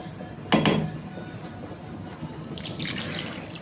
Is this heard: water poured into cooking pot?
yes